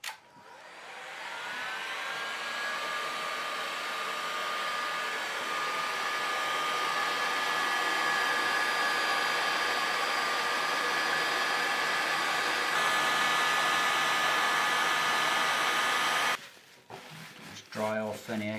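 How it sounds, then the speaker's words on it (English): Hot air gun blowing to melt wax into a leather sheath, a steady loud whirring roar held for a long stretch, then cutting off, followed by brief handling sounds. "we can use a normal sort of hot air gun just to get that out"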